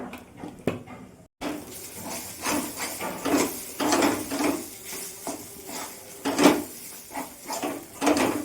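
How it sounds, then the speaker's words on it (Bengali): A spatula stirs and scrapes a chana dal mixture with salt and sugar in a kadai, a wok-style pan, making uneven bursts of metallic clatter and scraping over a quiet kitchen background, with no talking. "ভালো করে নাড়িয়ে চাড়িয়ে"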